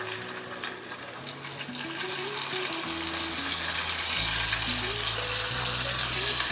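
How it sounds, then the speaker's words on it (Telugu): Chopped tomatoes fry in a little hot oil in a pan, giving a steady, close sizzle and hiss that grows slightly louder as it goes, with a low background hum. "ఈ టమాటా 1 నిమిషం ఫ్రై చేద్దాం నేను"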